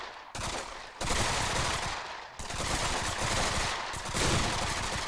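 Dense, rapid bursts of machine-gun fire from a VR shooting game played on an HTC Vive, loud and nearly continuous with a few short pauses between volleys.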